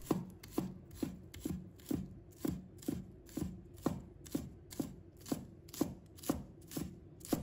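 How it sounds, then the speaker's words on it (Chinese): A knife chops scallion whites into small pieces on a cutting board in steady, evenly spaced strokes, about two per second, each a crisp close tap with no talking. "把它切成小粒。"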